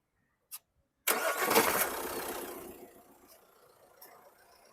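2017 Jeep Compass Longitude cranks briefly and fires up loudly, the engine surge settling into a smooth steady idle that fades lower over several seconds, preceded by a short click.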